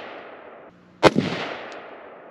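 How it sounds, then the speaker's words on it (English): A single sharp, close gunshot cracks out of a quiet outdoor background at a rural off-grid cabin, followed by a short rumbling echo. "1, 2, 3 rounds, slow fire."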